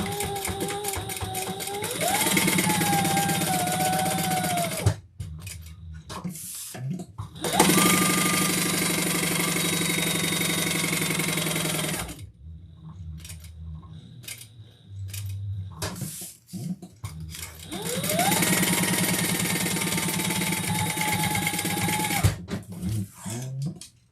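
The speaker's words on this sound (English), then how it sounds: "Let's sew my slip pocket on." A sewing machine stitches a slip pocket onto a handbag in several long, loud bursts of fast whirring, with short pauses between runs and faint handling sounds during the breaks.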